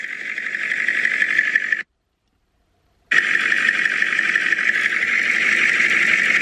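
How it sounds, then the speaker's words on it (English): A steady, rumbling Cummins diesel truck engine idles loudly and continuously, cutting out completely for about a second before resuming at the same even drone. "diesel engines idling for therapy and relaxation"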